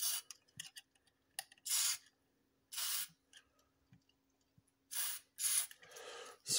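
Short bursts of lubricant spray hiss into the boot lock of a Jaguar XK8, several separate squirts of varying length with quiet clicks and handling noises between them.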